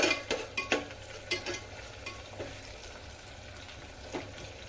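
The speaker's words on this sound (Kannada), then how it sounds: "ಬ್ರೌನ್ ಕಲರ್ ಬರಬೇಕು ಅಲ್ಲಿವರೆಗೂ ನಾವು ಇದನ್ನು ಫ್ರೈ ಮಾಡ್ಕೊತಾ ಇರಬೇಕು ಹೈ ಫ್ಲೇಮಲ್ಲಿ ಇಟ್ಟಿದ್ದೀವಿ ಫ್ರೈ ಆಗೋದು" Spinach rice bath ingredients fry in a pan over a high flame, a steady soft sizzle with a few light clinks and scrapes of stirring near the start.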